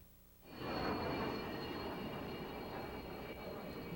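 A MiG-29 jet fighter at the 1989 Paris Air Show roars in abruptly and holds a loud, steady broadband engine rush with a thin whine on top, heard from the crowd at some distance.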